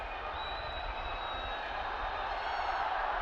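A cricket crowd at a Pakistan versus Sri Lanka Test match cheers and applauds a century, a steady, somewhat distant wash of clapping and cheering throughout.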